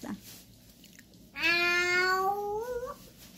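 A young child imitates a cat fight with a long, rising, wavering yowl that sits close and loud after a brief quiet start, the strained meow-like voice sweeping upward before breaking off.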